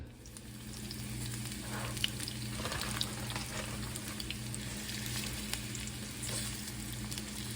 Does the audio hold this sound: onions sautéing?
yes